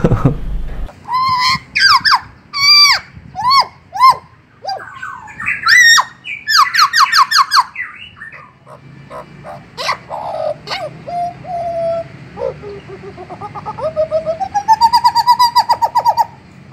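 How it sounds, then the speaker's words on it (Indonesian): A hooded butcherbird gives a series of loud, harsh squawking calls, then varied whistled and warbling notes, close and clear against a quiet background. "itu burung jagal Papua dia suaranya monoton tapi unik gitu"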